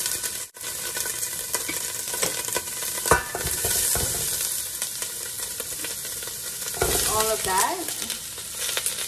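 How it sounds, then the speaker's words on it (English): Vegetables browning in oil in a pot for beef kaldereta, a steady loud sizzle and crackle with occasional stirring scrapes, close up, and a short spoken remark near the end. "I like to brown all the vegetables first."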